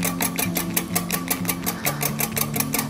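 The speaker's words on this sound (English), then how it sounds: "I've got 2 egg whites, and I'm just going to froth that up a little bit" A whisk beats two egg whites to a froth in a bowl, making a fast, regular clatter of close, even strokes throughout, with no talking.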